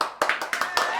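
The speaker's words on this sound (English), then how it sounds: "Give her a round of applause." A few people give a short round of hand clapping indoors, about five distinct, quick claps in an uneven rhythm, close and fairly loud, with speech heard alongside.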